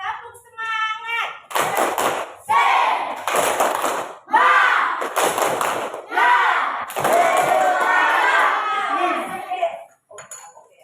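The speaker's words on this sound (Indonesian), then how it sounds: "Tepuk semangat." A class of sixth-grade students performs a rhythmic spirit clap, bursts of clapping in a patterned beat alternating with children chanting together, loud and close in a classroom.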